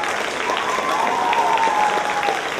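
An audience at a live comedy show in Kyiv claps steadily, a dense moderate wash of applause that holds evenly with no voices on top.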